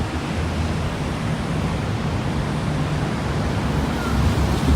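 Surf from the Coral Sea rolling onto a Gold Coast beach lined with condos, a steady broadband wash with low rumble and some wind buffeting, continuous and fairly loud throughout.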